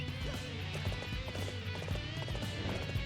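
Horse hooves gallop in the Dynasty Warriors 8 video game, a steady rapid clip-clop running throughout over a dense, loud game soundtrack.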